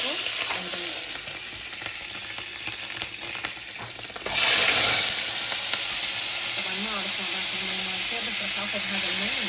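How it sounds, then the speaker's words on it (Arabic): Meat frying in a pan for maqluba gives a loud, continuous sizzle and hiss close up, with a brief sharper burst of steam midway and faint tonal whines underneath. "من عندنا استوى اللحم شو نسوي؟ نجي نقلي"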